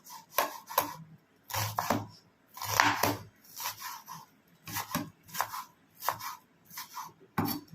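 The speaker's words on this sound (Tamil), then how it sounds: "இது நல்லா பொடியாக நறுக்கிக்கணும் வெங்காயம்" Knife finely chopping onion on a board, quick bursts of crisp chops in an uneven rhythm, close and clear with no talking.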